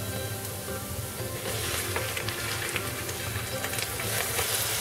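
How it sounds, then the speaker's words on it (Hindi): Chicken pieces frying in a pan with softened onions for a Saudi kabsa, giving a steady close sizzle with scattered crackles and pops throughout, no voices over it. "अब हम चिकन को भूनेंगे यहाँ तक कि हमारी चिकन ब्राउन हो जाए"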